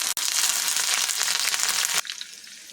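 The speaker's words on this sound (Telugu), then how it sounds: "కరివేపాకు ఎండుమిరపకాయ ఎల్లుల్లిపాయలు కూడా వేసేసుకుందామండి దీంట్లోకి" Urad dal, curry leaves, dry red chilies and garlic fry in hot oil for a tempering, a loud, close, dense sizzle that crackles steadily, then drops abruptly to a softer hiss.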